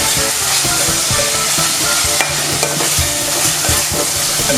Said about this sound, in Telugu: ఇప్పుడు ఇందులో ఒక స్పూన్ అల్లం పేస్ట్ వేసి అడుగు మాడకుండా కలుపుతూనే ఉండండి